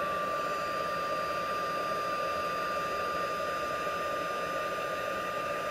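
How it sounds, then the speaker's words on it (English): A heat gun heating tarnished foil blows a loud, steady whooshing roar with a high whine on top, holding unchanged from start to finish. "here comes the heat gun, and I'm really sorry, but it will be noisy."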